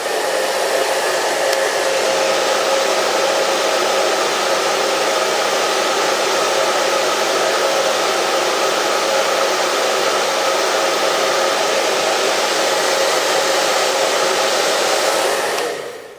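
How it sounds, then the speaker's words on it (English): A hair dryer runs on low heat for a long, steady stretch with a constant loud airy whoosh and motor hum that cuts off at the very end. "I'm going to grab a hairdryer."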